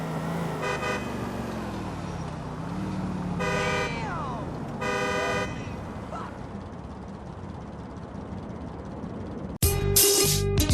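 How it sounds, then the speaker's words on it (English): A car horn in GTA IV sounds in several short toots over a running engine and street noise, followed by a harsher blaring burst at the end; speech is mixed in. "honking for too long will fail the mission"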